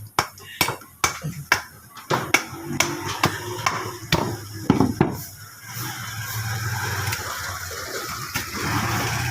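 A series of sharp, heavy pounding blows on a primal meat cut during deboning lands in a quick irregular rhythm, then gives way to a steadier rumbling background.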